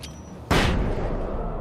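A flare gun fires in a video game, one sudden loud burst that stays as a bright, lingering hiss and rumble after a quieter start.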